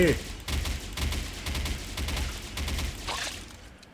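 Rapid bursts of gunfire from a handheld gun in a horror dental clinic video game, sharp repeated shots in a steady stream, fairly close and loud, with a faint voice underneath.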